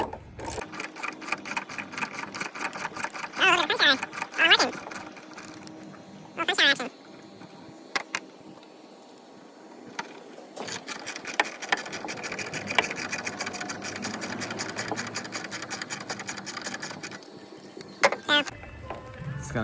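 A ratchet loosens 10 millimeter bolts on a Ford F150 tailgate, producing runs of fast, close metallic clicking separated by brief pauses and short clanks.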